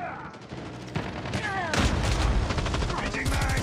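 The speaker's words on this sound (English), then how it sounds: "Sentry gun deployed." A deployed sentry gun fires in a video game, a rapid loud burst of shots kicking in after a moment and continuing steadily to the end alongside other game sounds.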